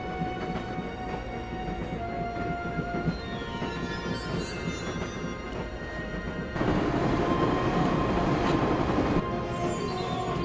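A train rolls along in the video game Broken Sword, a continuous rumble of wheels on track with a brief high squeal near the end, the sound swelling louder partway through.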